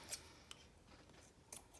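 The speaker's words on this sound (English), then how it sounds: "these scissors aren't very sharp" Blunt craft scissors snip through material in three short, faint cuts spaced across a quiet moment, each a brief crisp rasp.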